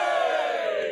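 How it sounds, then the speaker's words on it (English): A crowd of Arsenal fans, celebrating a league title won after 22 years, lets out one sustained, loud, massed cheer of shouting voices that holds steady throughout. "Give us a quick cheer."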